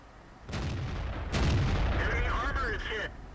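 The AMX 13 90 light tank cannon fires in World of Tanks with two loud booming shots in quick succession, followed by rumbling and a whistling, warbling tail, all close and heavy.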